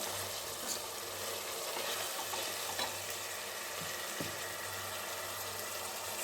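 Vegetables with masala frying in a pan for vegetable pulav over medium flame, a steady soft sizzle with faint stirring taps, no voices.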